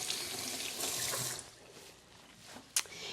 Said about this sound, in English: let me rinse my fingers off